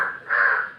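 A single crow gives a short, harsh caw, close and loud, rising briefly in the middle before cutting off.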